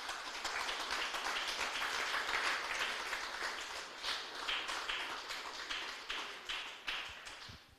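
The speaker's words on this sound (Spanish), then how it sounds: "Denle un aplauso fuerte al Señor" A church congregation claps in praise, a mid-sized crowd's applause, fairly soft and slightly distant, swelling early then thinning into scattered individual claps near the end, with no voices.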